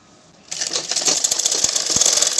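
After a short quiet start, a sewing machine stitches a blouse sleeve in a fast, even mechanical chatter that runs on steadily at close range.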